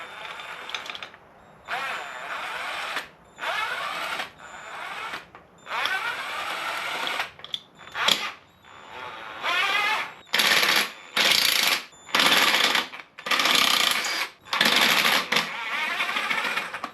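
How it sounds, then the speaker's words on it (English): An impact wrench spins loosened bolts off a BMW, firing in a series of loud, short rattling bursts about a second long with brief pauses between them. "Now that they're all loose, I can use the impact."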